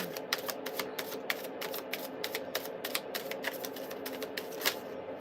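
Tarot cards being shuffled by hand, a close series of crisp riffling snaps and flutters repeating in quick bursts, with no voices over them.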